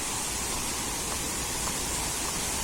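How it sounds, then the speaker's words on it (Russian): A small waterfall near Rishikesh, at its lowest point, pours as a dense, steady hiss of falling water, close and even with no breaks, and no voices are heard. "Вот уже и водопадик."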